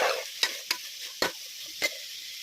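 Onion and capsicum frying in oil: a soft hiss punctuated by four sharp, separate scrapes of a spoon stirring the pan.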